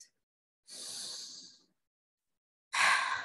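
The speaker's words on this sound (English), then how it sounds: "Take 3 deep, long breaths, inhaling from the nose, exhaling from the mouth." Two slow, deep breaths come close and clear, each an airy rush in through the nose and out through the mouth, separated by a second of silence.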